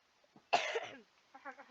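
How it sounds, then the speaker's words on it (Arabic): A single harsh cough bursts out close to the mic, followed by a brief voiced throat sound, with no other sound around it. "عندي كحة وبس."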